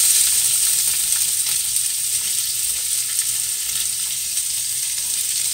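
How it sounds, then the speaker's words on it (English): Garlic and onion fry in about three tablespoons of coconut oil in a pot, giving a steady, close, even sizzle throughout. "3 tablespoons of coconut oil in that pot. And to that I'm gonna add my garlic and my onion."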